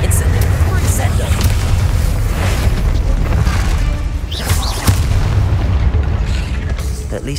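The Incendio fire spell in Hogwarts Legacy erupts as a loud, sustained roaring blast of flame with deep rumbling and crackle, steady for several seconds with a few sharper bursts.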